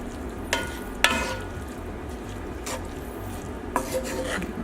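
A utensil scrapes and rubs through rice in a ribeye steak burrito bowl, a few short rasping strokes separated by pauses, close up and moderately loud.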